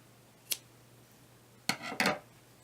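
Scissors snipping through leftover yarn at the end of a crochet infinity scarf: one short snip followed by two quick, louder cuts close by in a quiet room.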